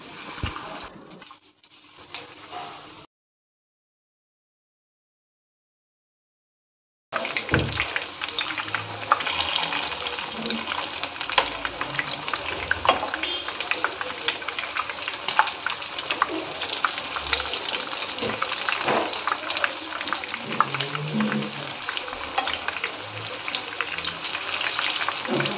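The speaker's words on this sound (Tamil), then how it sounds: "ஒரு கடாயில் எண்ணெய் சூடானதோ ஒரு கபாப் பீசஸ் ஆட் பண்ணி" Garlic chicken kebab pieces fry in hot oil in a pan, giving a loud, steady crackling sizzle that runs without a break after a short quiet gap near the start.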